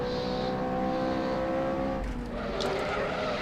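Car driving hard, its non-V8 engine droning steadily close up with tyres squealing and skidding through turns, a continuous loud roar with rising and falling pitch.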